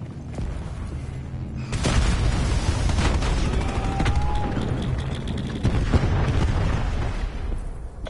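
Hellstorm missile strikes in Call of Duty Black Ops 4 gameplay: a heavy boom at the start, followed by rolling explosions and gunfire crackle over a dense, steady battle din.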